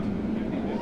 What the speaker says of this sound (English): What a great sound. Let's refire those engines.